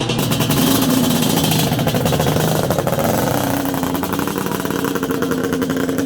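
A Yamaha Banshee ATV engine runs loud and close, holding a raspy, steady two-stroke drone throughout with slight shifts in pitch.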